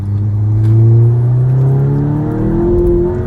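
A tuned Stage 1 VW GTI accelerates hard with its front wheels spinning, the engine note rising loud and close in a steady climb through the revs.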